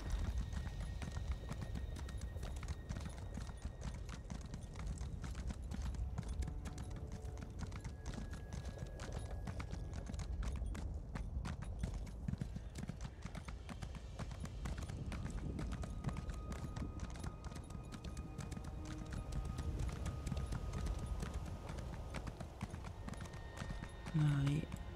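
Horse hooves clip-clop at a steady gallop in the video game ESO, a rhythmic drumming that runs throughout beneath someone talking.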